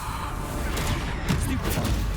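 A Bombarda spell blast during Hogwarts Legacy combat, a series of sharp bursts and crashes over continuous rumbling game noise, moderately loud and close.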